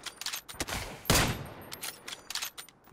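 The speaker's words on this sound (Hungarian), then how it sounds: "Az még a túloldalról lövöldöznek onnan, nem?" Gunfire in the battle royale game PUBG, a rapid series of cracking shots in uneven bursts, one louder report standing out midway, all sounding somewhat distant across the map.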